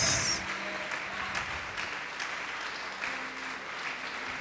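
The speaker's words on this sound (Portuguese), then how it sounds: "Pode aplaudir e glorificar Deus" A church congregation applauds in praise during a sermon, a moderate, continuous patter of clapping at some distance, with faint voices and tones underneath.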